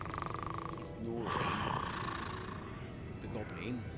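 Goblin snoring in Hogwarts Legacy, a steady, rumbling in-game snore heard nearby and continuing throughout, with a voice talking over it at times.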